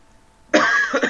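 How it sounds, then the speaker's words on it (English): A single harsh cough erupts suddenly after brief near-silence, loud and close, followed by a short second push of breath. "sorry, I have a cough."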